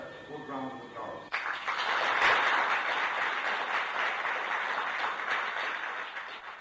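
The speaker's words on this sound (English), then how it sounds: "I think that deserves a good round of applause" A large audience bursts into sustained applause at an evening gathering in Longford, starting abruptly after a brief musical passage and holding steady and full to the end.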